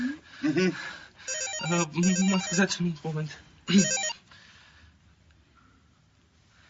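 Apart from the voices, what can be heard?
telephone ringing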